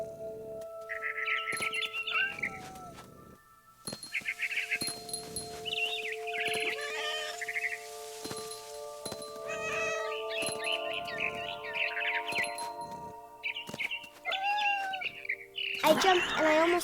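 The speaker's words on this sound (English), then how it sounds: "Then I heard chirping outside my window. It was a barn swallow going back to her nest." Barn swallow chirps mix with meowing cat calls in the video game What Remains of Edith Finch, high twittering phrases recurring over a soft game music background, moderately loud and close, with no talk.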